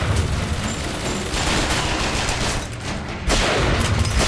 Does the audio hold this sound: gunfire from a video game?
yes